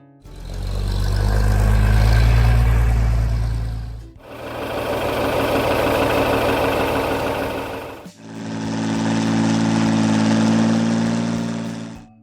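A John Deere 4020 classic tractor engine runs steadily in three long, loud passes separated by short breaks, with a deep low rumble and a dense mechanical chatter, and no voices.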